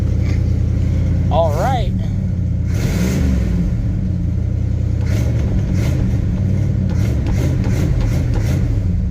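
A 1973 Cadillac Coupe de Ville engine idles with a steady, loud low rumble, and someone talks briefly over it near the start.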